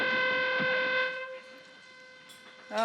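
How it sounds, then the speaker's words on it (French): A foghorn sounds a loud sustained tonal blast that holds for about a second and then fades, with a rough, harmonic-rich drone, followed by a quieter stretch and a short new sound at the end. "c'est quoi la corne de brume, comme ça?"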